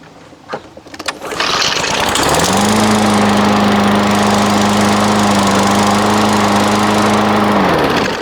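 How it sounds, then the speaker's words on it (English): DeWalt self-propelled lawn mower engine rattling through a couple of pulls, then catching and running at a steady, loud, high droning idle close by until it cuts off at the end. "we're ready to start her up for the first time"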